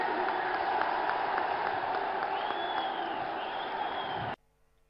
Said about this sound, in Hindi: जोरे हाथ ताली दिए